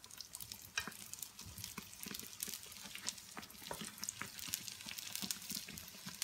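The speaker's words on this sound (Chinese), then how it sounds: "放入生坯，全程一定要小火慢炸" Dough strips deep-fry in oil over low heat, giving a soft, steady bubbling crackle with scattered pops, close but quiet.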